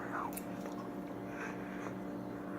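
Freshly cooked eggs bitten and chewed close to the mic, soft moist mouth sounds over a steady hum of background noise.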